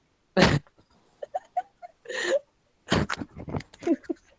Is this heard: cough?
yes